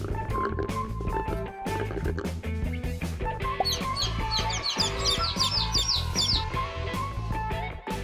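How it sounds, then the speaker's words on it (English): A chicken clucks and chirps in a short, busy burst, partly buried under a continuous bed of music. "Chicken."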